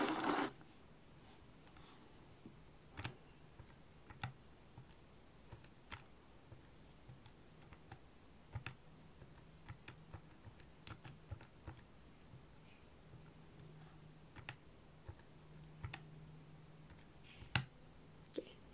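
Calculator buttons are pressed one by one while a formula is entered, producing sparse, faint, sharp clicks at irregular intervals over a quiet room hum.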